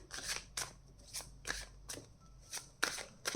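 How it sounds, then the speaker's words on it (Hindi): Tarot cards drawn and slid from a deck, a series of soft crisp swishes and flicks about every half second, close and quiet with no talking. "यहाँ पे कुछ कार्ड्स और निकाल लेती हूँ।"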